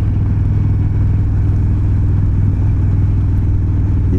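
An Indian Chieftain Darkhorse 116 motorcycle engine drones steadily and loudly on a test ride, a deep, lumpy low rumble holding constant with no talking.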